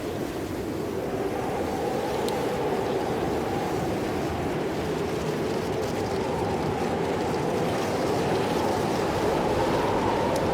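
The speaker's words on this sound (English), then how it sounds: "the sound of that sled on that ice is pretty good" A steady, continuous scraping hiss of sled runners gliding over ice in the video game Cryostasis: Sleep of Reason, broad and unbroken for the whole stretch, with a low rumbling undertone and no voices.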